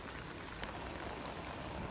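Steady monsoon rain pours over a village market with shops closed, a dense, even hiss with scattered drip taps and no voices.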